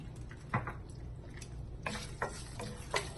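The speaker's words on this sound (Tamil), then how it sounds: "இப்போ எண்ணெய் சூடாயிடுச்சு. நம்ம ஹோல் கரம் உள்ள சேர்த்துக்கோங்க." Whole garam masala spices crackle in hot oil for a chicken stew, a faint low sizzle broken by a few scattered pops and light stirring clicks, with no one speaking.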